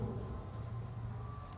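Chalk or marker scratching across a board during a Hindi grammar lesson, a short, faint scraping stroke over quiet room tone, with no speech heard.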